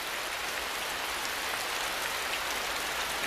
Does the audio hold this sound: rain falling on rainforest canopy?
yes